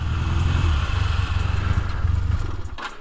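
A 2002 Honda CB250 twin motorcycle engine runs with a close, steady, low throbbing idle and slight mechanical clatter, holding a constant rhythm throughout.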